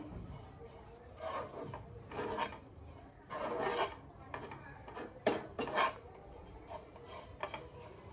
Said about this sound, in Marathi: सो हा मसाला चांगला 3-4 मिनिटं परतून घ्यायचा आहे